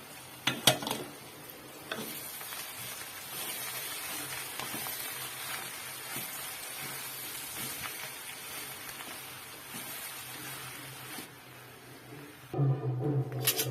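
Grated coconut chutney being stirred in a pan, with a soft continuous scraping and light sizzling texture that runs steadily and ends in a few louder clatters.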